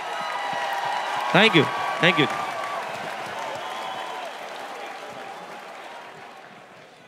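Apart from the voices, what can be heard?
audience applause at an awards show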